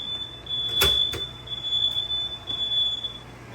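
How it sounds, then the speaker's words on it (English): A smoke detector triggered by burnt toast from a 1972 Proctor Silex toaster sounds a steady high-pitched electronic tone throughout, with a couple of sharp clicks or knocks early on, in a kitchen with no talk. "We got his burnt variety likes to set off the smoke detector."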